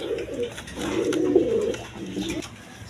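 Pair of Mumbai pigeons at a pigeon seller's, giving repeated low throaty coos in close, steady bursts with soft background noise.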